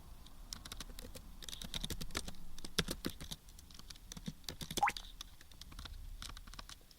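Fingers type on a computer keyboard in a rapid, uneven patter of soft key clicks, fairly quiet and close, with brief pauses between bursts and no talking.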